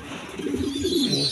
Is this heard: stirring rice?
no